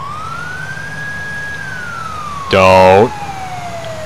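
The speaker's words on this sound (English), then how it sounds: "Oh shit, ambulance!" An ambulance siren in the video game GTA IV wails in a single rising and falling tone, then a loud, harsh blast cuts in briefly near the end, with a voice speaking over it.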